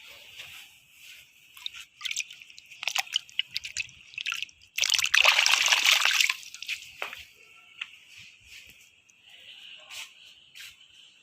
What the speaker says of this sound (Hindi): बहुत ज़्यादा ठंडा है, इसको थोड़ा सा पानी में डाल देती हूँ,